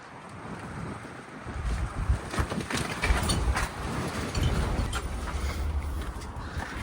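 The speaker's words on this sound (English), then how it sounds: "I can't tell you how bad the wind is up here." Strong wind buffets the microphone aboard an abandoned ship, building from a softer rush into heavy, gusting rumbles and roaring blasts that come and go in waves.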